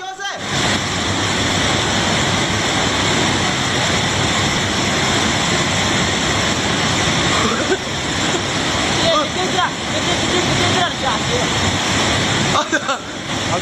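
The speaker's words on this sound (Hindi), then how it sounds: "पानी का बहाव देखिए जरा, लगातार बढ़ता जा रहा है।" Swollen floodwater in Sikkim rushes and churns near a bridge in a loud, continuous roar, a dense wash of turbulent water filling the whole stretch without a break.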